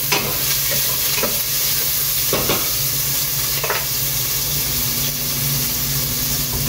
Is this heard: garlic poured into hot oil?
yes